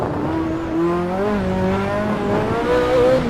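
A Ferrari F40 engine drones loudly and steadily with pitch rising and falling as the car drifts through bends, tires hissing underneath, heard close with no talking.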